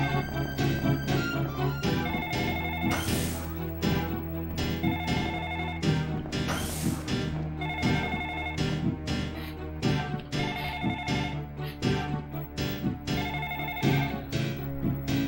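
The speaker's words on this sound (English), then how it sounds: "The phone rings." A telephone rings with a repeating electronic ringtone pattern, loud and continuous, in a horror game.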